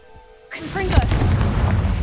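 A Confringo blasting spell explodes in the video game Hogwarts Legacy: after a half-second of near silence, a sudden loud boom hits and rolls into a dense, rumbling tail that lasts to the end.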